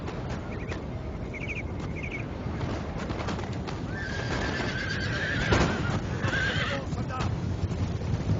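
Several horses whinny in short bursts in a Napoleonic battle video game, over a busy background of hooves and shuffling, moderately loud, with voices talking faintly underneath.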